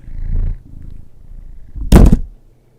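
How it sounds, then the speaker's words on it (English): A cat purrs softly close to a microphone, then bumps it with its head, making one loud thump near the end before the sound drops to quiet. "I thought you could hear him purring and he headbutted."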